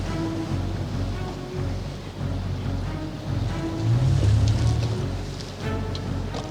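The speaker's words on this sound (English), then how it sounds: "The police close in on the fleeing yacht." A police boat closes in on a fleeing yacht at sea, with a steady engine drone, rushing water and wind noise, continuous and fairly loud.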